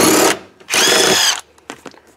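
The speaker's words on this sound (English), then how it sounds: "Helps to have a little compact wrench here" A compact power wrench works on a Fiat 500e, giving two loud, close whirring bursts of about a third and two thirds of a second, then a few short, fainter clicks and taps.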